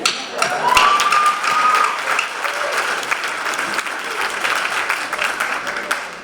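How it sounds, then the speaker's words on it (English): A crowd at a high school commencement ceremony applauds steadily, dense clapping that swells at the start and continues evenly, with a brief whistle early on. "how about another round of applause for your family?"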